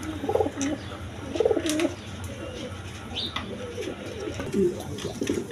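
Breeding pigeons, including Lahori birds, coo in soft repeated low throaty phrases at a market, several calls close together with faint chirps over a light background hum.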